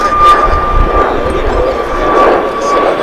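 An American Airlines jet airliner takes off from DFW International Airport, its engines giving a loud, steady roar over a few seconds with a faint tonal whine, while a voice talks over it.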